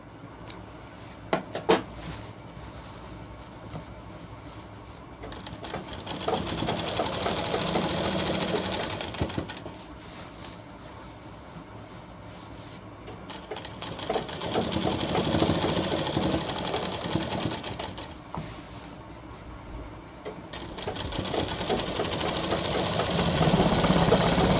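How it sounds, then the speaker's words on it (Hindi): An electric sewing machine stitches a shirt sleeve in long, steady runs that rise and fall, with a few light clicks at the start and quieter pauses between seams, close by with no talking. "इस तरह सिलाई लगाएं।"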